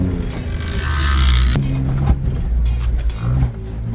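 A 2022 Ford Bronco on ICON coilovers rolls slowly over dirt whoops, its engine a steady low rumble with a couple of sharp suspension thumps and rattles as the truck rocks through the bumps.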